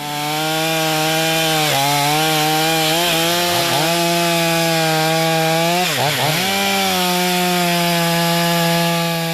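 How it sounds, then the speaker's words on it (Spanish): A chainsaw runs loud and steady, like the ones garden workers use. Its engine drone shifts pitch twice, dipping and rising as the throttle or load changes, and no voices are heard. "Una motosierra alcanza los 110 decibeles."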